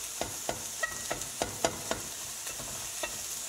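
Chopped turkey stirred and browning in a pan, a steady soft sizzle under light, irregular scraping and stirring clicks from a utensil, close and fairly quiet.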